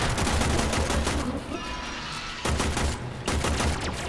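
Dense, loud gunfire from the video game Warframe, rapid shots piling into a continuous fusillade with two brief lulls before the firing resumes.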